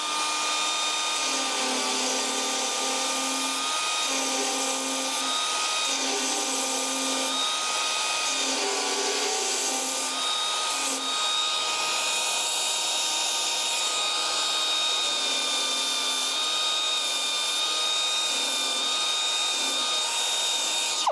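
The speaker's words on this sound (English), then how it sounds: "show us how the Dynafile 2 works when it's in action here" A Dynabrade Dynafile 2 pneumatic belt file grinds down a weld on a car door, a steady high-pitched whine holding constant for over twenty seconds with a faint lower tone shifting underneath as pressure changes.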